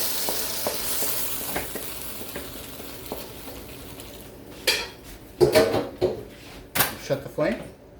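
Okra stir-fried with fresh garlic in a pan, a steady soft sizzle under light stirring and spatula scrapes, then several louder clattering bursts of pan and utensil toward the end.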